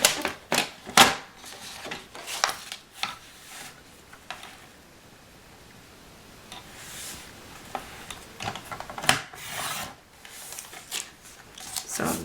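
Paper trimmed to size for a memories scrapbook page with a paper trimmer, heard as a series of close, sharp slicing and sliding scrapes in irregular bursts with quieter pauses between, and no voices.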